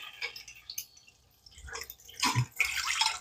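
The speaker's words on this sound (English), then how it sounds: "I'm going to go ahead and start adding some more stuff, such as the broth, and with a little bit of meat juices that we have" Broth with meat juices poured into a pork, garlic and ginger stir-fry makes intermittent splashy drips and trickles at close range, with brief sizzling bursts toward the end.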